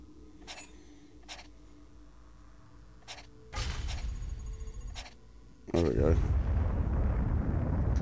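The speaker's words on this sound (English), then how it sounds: "Massive explosion." A massive explosion in Assassin's Creed II erupts as a sudden loud broadband blast, then a heavier roaring burst follows a couple of seconds later, after sharp clicks and creaks.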